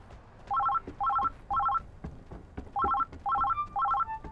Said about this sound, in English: I'm not gonna answer the phone in some dude's house.